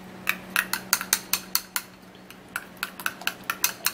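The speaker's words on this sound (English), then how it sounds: "And now would have to give this a good stir." A spoon stirs a mixture in a bowl, giving a quick rhythmic series of sharp metallic clinks against the sides, about a dozen and a half strokes with a brief pause midway, close and clear, no speech.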